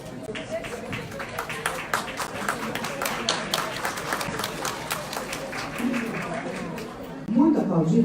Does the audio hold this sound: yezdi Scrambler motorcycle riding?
no